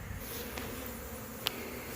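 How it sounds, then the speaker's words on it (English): Honeybees buzz around a hive colony being combined, a steady dense hum with a faint wing whir passing close, no talk. "we'll end up knocking these bees and get them to fly"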